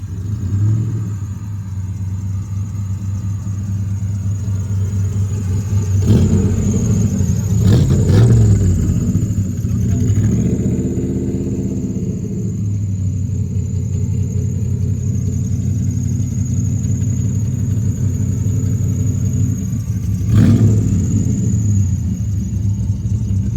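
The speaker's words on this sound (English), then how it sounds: "This is an LS3 pushrod V8, 430 horsepower." Low, steady rumble of an LS3 pushrod V8 making 430 horsepower, fitted in a C3 Corvette at a large Corvette gathering, idling nearby with a few brief louder swells and a faint squeal.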